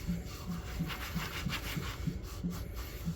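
An oily rag rubs against a rough-textured cast iron South African three-quarter potjie pot, making close, rhythmic scrubbing strokes that repeat about every third of a second.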